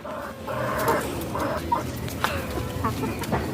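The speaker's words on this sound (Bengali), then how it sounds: "আমার দেশি মুরগিগুলোকে খাবার দিয়েছি খেতে, একটু ঠুকরা ঠুকরি করে" Free-range desi hens peck at scattered feed nearby, giving soft, irregular clucks and short calls over a light rustling background, with no talking.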